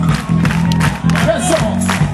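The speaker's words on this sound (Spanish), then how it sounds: "Ayúdenos con las palmas, pues." Audience at a live outdoor music performance in a park claps along in a steady rhythm, loud and close, blended with crowd cheering and whoops while a singer and band play.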